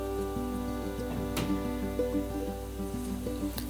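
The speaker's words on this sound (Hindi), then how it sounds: "हल्की गरम तेल में आप इसको डालिएगा" Vermicelli-coated potato donuts fry in lightly hot oil, giving a steady, dense crackling sizzle like rain on a surface, close and continuous with a few sharper pops.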